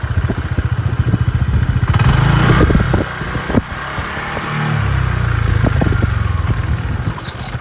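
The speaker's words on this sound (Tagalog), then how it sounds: "It has a pretty basic stock exhaust that matches the minimalist design of the bike" Stock exhaust of a 2022 Honda PCX 160 scooter, heard up close with a steady low putter at idle, then two short throttle blips that rise and fall before settling back to idle.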